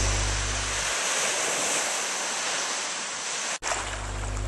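Ocean surf rolls onto the beach at Hamlin Bay, Australia, a dense continuous wash of breaking waves with low wind rumble, steady throughout and briefly dipping near the end.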